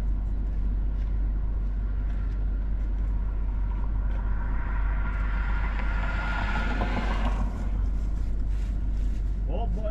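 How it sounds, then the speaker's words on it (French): Strong storm outflow wind roars and buffets against the microphone continuously, a loud low rumble with a gust swelling midway. "Il y a du vent là-dedans."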